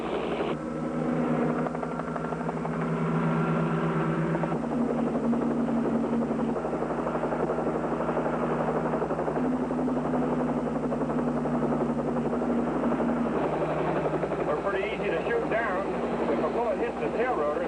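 A helicopter's rotor and engine drone steadily and loudly throughout a highway patrol chase between two helicopters, with voices talking over the continuous roar.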